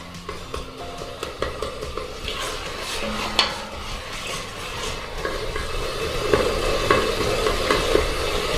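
Kathiyawadi undhiyu with red chilli garlic chutney fries in a brass pot while being stirred, a close, steady sizzle broken by frequent scraping and clinking strokes of the spoon, with the frying growing a little louder toward the end.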